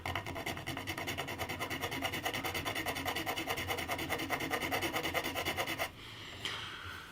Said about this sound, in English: Might actually just file that down